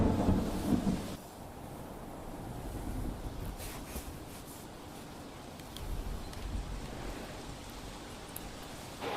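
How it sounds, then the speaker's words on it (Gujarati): Steady heavy rain over Ahmedabad during a monsoon downpour, a dense even roar with a louder burst at the start and no voices. "અમદાવાદમાં વહેલી સવારથી વરસાદ"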